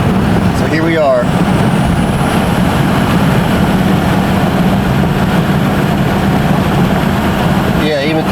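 Ford F250 diesel truck engine pulling up a light hill, a loud continuous rumbling drone heard from inside the cab, with brief faint voice-like sounds near the start and end.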